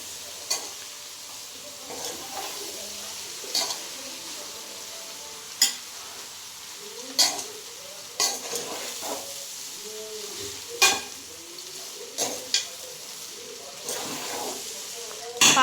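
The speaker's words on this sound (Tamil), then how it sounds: "இப்போ நல்லா நம்ம கிண்டிக்கலாம்" Fried rice with cooked white rice is stirred in a hot pan, a soft steady sizzle broken by repeated scraping and clattering strokes of the spatula at an uneven rhythm, close and clear.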